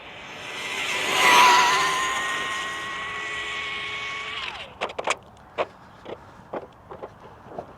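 A fast RC rally car screams past with a rising then falling high-pitched motor whine, followed by a series of sharp knocks and clatters as it crashes and tumbles, close by, without talk.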